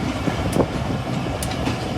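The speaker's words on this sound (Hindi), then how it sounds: "ये थी हमारी ट्रेन की सिस्टर ट्रेन 8 डाउन तेज़गांव" The Tezgam Express 8 Down train pulls out of Lahore railway station with a steady rumble of rolling railcars, a rhythmic clickety-clack of wheels and brief high squeals, heard nearby without speech.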